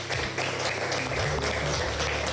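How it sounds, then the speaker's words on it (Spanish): Crowd applause breaks out at a COVID-19 vaccination event in Costa Rica, where two elderly people are the first to be vaccinated. Steady, dense clapping fills the whole moment with faint voices underneath. "¿Qué les parece si aplaudimos?"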